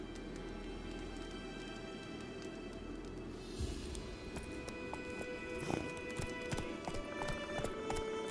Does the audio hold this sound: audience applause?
no